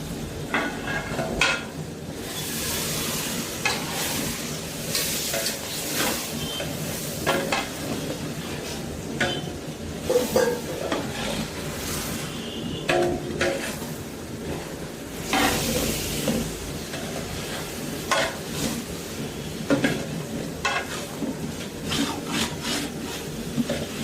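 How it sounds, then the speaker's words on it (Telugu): Three kilograms of chopped tomatoes stirred in a large pot for bagara rice, giving a steady sizzle with repeated scraping and clanking of a spoon against the metal pot, close and fairly loud, with no talking. "ఇవన్నీ వేసిన తర్వాత బాగా మిక్స్ చేసుకునేసి టమాటాలు మగ్గేంత వరకు ఉడకనించుకుందాము"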